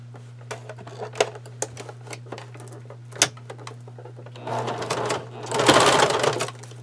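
A sewing machine stitches a fabric bag in short bursts of rapid needle clatter over a steady motor hum, ending in a longer, louder run of sewing.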